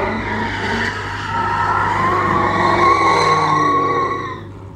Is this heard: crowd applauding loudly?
no